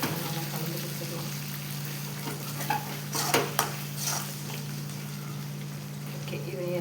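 A spoon scrapes and clinks against a pot while thick chicken biryani gravy is stirred, a few sharp metallic knocks over a low steady background hum, close to the microphone.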